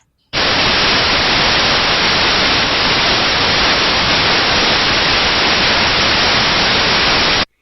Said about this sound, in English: here, I'll show you the white noise first